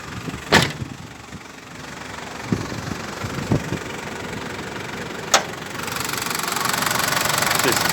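A Toyota Granvia's 3-litre turbo diesel engine in excellent health, with a small oil leak, cranks and catches with a sharp click and thump, then settles into a steady, rough, knocking idle that builds slightly louder toward the end.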